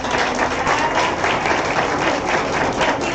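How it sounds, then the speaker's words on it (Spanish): Loud, close audience applause closing a talk on active teaching methods, a dense continuous clatter of many hands clapping at a steady level with no pauses. "vamos a dar un fuerte aplauso a nuestra"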